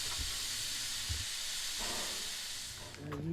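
Steam locomotive at Cass Scenic Railroad hissing steadily as it is readied for departure, a broad continuous rush of steam with a few low thumps and brief tonal bursts near the end.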